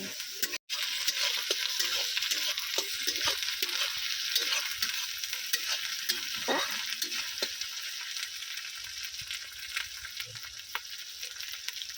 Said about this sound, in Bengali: এবারে দিয়ে দেবো রসুন বাটা আদা বাটা আদা রসুনটাও কিন্তু খুব ভালো করে কষিয়ে নেব